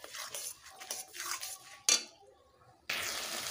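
A spatula scrapes and clatters in a pan as ground cumin, ginger and dried chilli spice paste is stir-fried for duck curry, with irregular metallic knocks and hiss.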